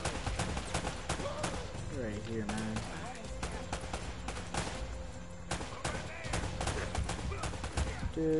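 Gunfire in the video game Uncharted, a series of sharp shots and bursts scattered through a busy, loud game mix with music and effects, while a voice talks over it.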